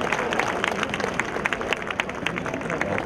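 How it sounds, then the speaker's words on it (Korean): A crowd at a military song choir festival award ceremony applauds steadily, a continuous patter of many hands clapping, moderately loud with faint voices mixed in. "여러분 박수 부탁드립니다"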